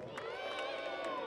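Audience at a live Adventure Time children's show at a book fair shouting together, a brief burst of many excited voices, loud and crowded, with children's cries mixed in.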